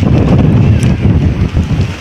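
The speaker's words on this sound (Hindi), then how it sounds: "हवा चली हुई है" A storm of strong wind blows through a village, buffeting the microphone with loud, gusty low roaring that rises and falls over two seconds, without speech.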